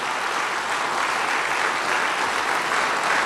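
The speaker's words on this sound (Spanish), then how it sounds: "Dale un aplauso al Señor." A church congregation claps together in a loud, steady wash of applause that carries on without a break for a few seconds, with no voices standing out above it.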